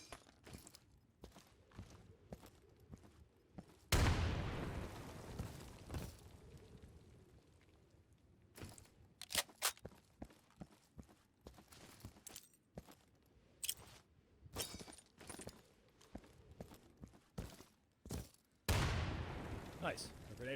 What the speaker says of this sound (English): Roll a grenade under that wooden fence.